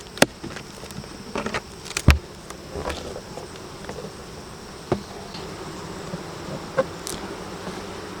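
Honeybee colony buzzing at an open hive during a beekeeper's inspection and Varroa mite count, a steady low insect drone with occasional sharp knocks and handling clicks.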